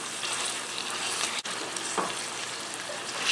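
Ground beef fries in a pan with a steady, soft sizzle as it is broken up, with a brief scrape and a few light utensil sounds over the crackle.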